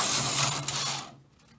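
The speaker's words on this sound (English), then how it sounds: "we are going to knit one row" A knitting machine carriage slides across the needle bed to knit a single row of a lacy ladder pattern, a close, loud mechanical whoosh and rattle that fades out after about a second.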